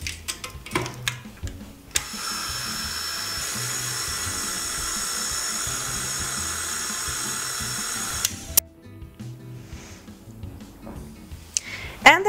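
An electric mixer combines flour into carrot cake batter, starting with a steady whirring hum that runs for about six seconds before cutting off abruptly, leaving quieter kitchen clatter.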